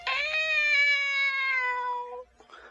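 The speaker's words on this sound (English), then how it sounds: "Mew finds his courage and mews like a cat" A clear, sustained meow from a cat character in the film The Christmas Toy, one long drawn-out tonal cry that fades out, followed by faint rustling.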